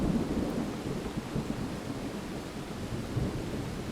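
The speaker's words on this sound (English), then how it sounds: "a sudden bolt of lightning crashed down, illuminating the entire scene." Thunder rumbles low and steady through heavy rain, a deep rolling storm sound with no sharp crack, fairly loud and continuous, with no voices.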